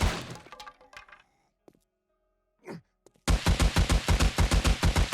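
Gunfire in the video game 7 Days to Die: scattered cracks and a brief pause, then a loud, rapid burst of automatic shots with an even rhythm.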